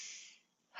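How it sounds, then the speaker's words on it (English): A slow, airy breath drawn in through the nose during a guided somatic relaxation exercise, a soft hiss that fades and then swells again at the start of a second breath, close and alone. "We also are breathing through our nose and our lungs."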